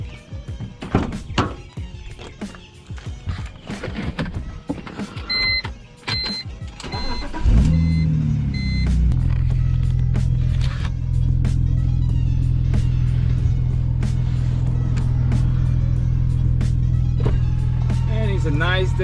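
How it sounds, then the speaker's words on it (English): BMW Z4 convertible starting off with the top down, with door thunks and clicks first, then a steady low engine drone and road rumble as it drives, with voices talking over it early on. "we're gonna give you guys a ride on the BMW Z4"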